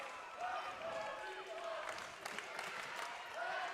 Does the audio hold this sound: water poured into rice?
no